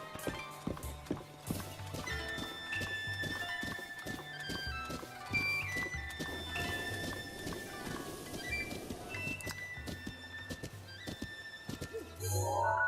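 A horse clip-clops at a quick, regular pace in Zelda: Breath of the Wild, hooves thudding steadily with a neigh near the end and faint game ambience behind.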